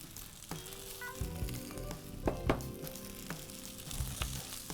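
Capsicum frying over high heat in a pan for fried rice gives a soft, steady sizzle with a few stirring knocks and scrapes of a spatula.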